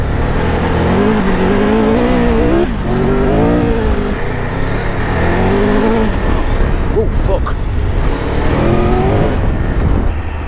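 A 2022 Triumph Tiger 1200 Rally motorbike rides off-road, its engine droning and revving in waves close by, with a rider's voice over it and some scuffing bumps along the way.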